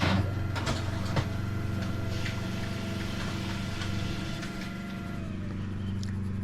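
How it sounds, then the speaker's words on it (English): A steady mechanical hum and whir from a running printer fills the room, with faint clicks and rattles, no voices. "Sorry about that noise, that was the printer."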